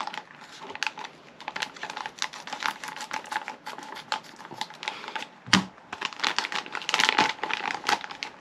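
A plastic parts bag from a Kyosho Fantom EP-4WD RC kit is cut open, giving close, irregular crinkling and snipping crackles with one sharper cut partway through.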